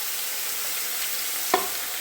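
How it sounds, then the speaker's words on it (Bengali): Small shrimp frying in a pan, a steady close hiss of hot oil with a single sharp clink of a utensil near the end, and no speech. "এখন আমি মাছটা ভেজে নেব"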